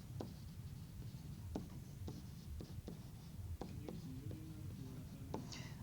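Marker or chalk scratches and taps across a board during a math lesson, a faint run of quick strokes and dots up close under soft background hiss.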